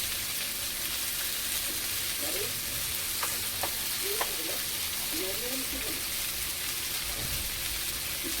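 Vegetables sizzle and fry in a pan with a steady crackle, joined by a few soft stirring clinks, as salt and turmeric are added.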